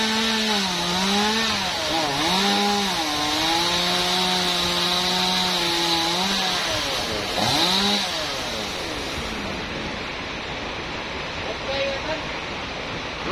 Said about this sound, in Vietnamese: Chú bắt đầu khởi động máy để cưa các bạn.